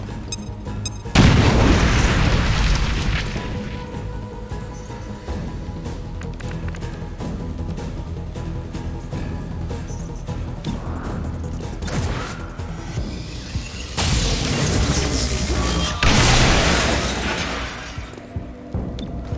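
A grenade explosion in the XCOM: Chimera Squad tactical game booms loudly up close, followed by rumbling debris and battle noise, then further heavy impacts and blasts later in the sequence.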